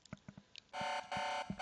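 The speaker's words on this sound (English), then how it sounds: "Except when the alarm goes off." A space video game's alarm sounds as a loud, steady electronic buzzing tone in two long bursts, preceded by several short soft beeps.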